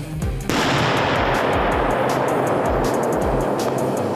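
A directed explosive blast simulating a car bomb in a passenger car during a training exercise, heard as a sudden loud boom that gives way to a sustained, roaring rumble and crackle lasting several seconds.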